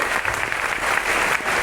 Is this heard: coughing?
no